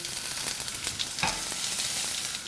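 Hot ghee with cumin, ginger and garlic sizzles and crackles steadily in a pan, with a bright hiss and occasional scraping of a spoon stirring.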